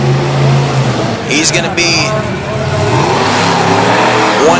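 Bigfoot 4x4 monster truck engine revving hard in a racing lane at a Radford, Virginia arena event, a loud sustained roar under an excited commentator's voice.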